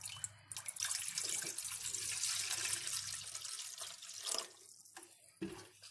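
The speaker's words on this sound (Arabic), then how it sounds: "هنزل بمية كده يعني تكون ايه، ما تكونش ساقعة، تكون سخنة شوية" Warm tap water runs and splashes into a kitchen pot meant for boiling eggs, a close, continuous gushing pour that thins toward the end.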